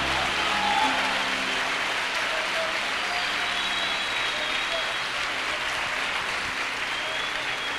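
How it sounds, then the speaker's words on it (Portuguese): A church congregation applauds during a Wednesday evening service, a dense, steady wash of clapping that holds at an even level throughout with no break. "Alguém pode aplaudir o Senhor nessa manhã"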